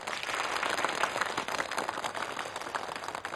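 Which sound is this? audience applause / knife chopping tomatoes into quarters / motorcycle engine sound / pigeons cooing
audience applause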